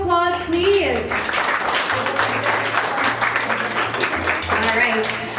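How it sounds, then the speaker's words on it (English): Guests at a school prom night and graduation ball applaud, a busy spread of clapping heard under and between voices talking over it, with a low hum in the background. "a round of applause, please"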